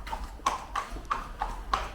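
Horse hooves clip-clop in a steady, regular walking rhythm, about six distinct strikes over two seconds, close and fairly clear, on a Polish horse farm with no talking.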